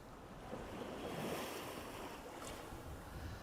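Continuous wash of waves and water rushing past a moving Globe 5.80 sailboat, with steady wind noise across the microphone and no voices.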